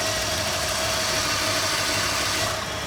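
A 1972 Ford Highboy pickup engine idles steadily and smoothly, a low even rumble without clatter, close by and continuous with no talking.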